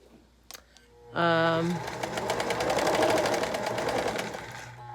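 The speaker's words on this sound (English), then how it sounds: "using a quarter-inch seam allowance, and I'm doing chain stitching" A home sewing machine chain stitching small quilt blocks with a quarter-inch seam, starting up after a brief pause and then running steadily and loud and close with a rapid, even mechanical chatter, preceded by a short spoken word.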